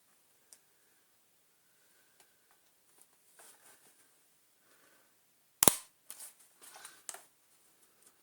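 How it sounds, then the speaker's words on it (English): New wheels snap into place on a 2001 commercial Karcher K5200 vacuum, giving one sharp, loud click followed by a few quieter plastic clacks and small rattles against a near-silent background. "we can take our nice new shiny wheels and click"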